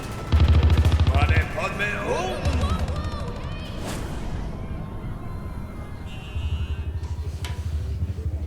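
Rapid bursts of gunfire crackle through a tense scene, loud strings of automatic shots at the start and again near the end, with a sharp bang midway and voices talking over the firing.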